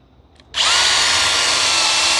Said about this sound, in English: I'm going to pre-drill into the steel a bit because it's going to be hard to get the self-driller into there